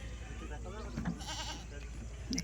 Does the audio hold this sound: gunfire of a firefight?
no